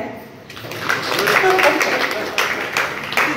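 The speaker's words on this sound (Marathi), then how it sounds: "मग टाळ्या." Audience applause at a gathering, a burst of clapping rising after a quiet start and continuing close and full for about three seconds, with voices mixed in.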